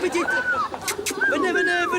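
Pigeons coo in soft, rolling calls close by, with a brief flutter of wings or noise between the calls.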